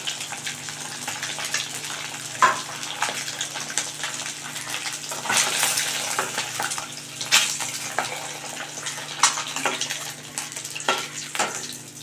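Eggs frying in hot oil in a pan until reddish-brown, a loud, continuous close sizzle and crackle with occasional louder spits and stirring scrapes, no voices over it.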